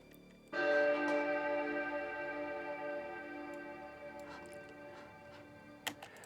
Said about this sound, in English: I had a sample of a church bell somewhere, and I added the church bell.